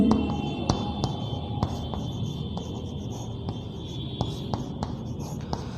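A pen or chalk writes steadily on a surface during a Class 10 geometry lesson on circle theorems, giving scratchy strokes with sharp taps, close and fairly quiet over a faint background hiss, with no talk.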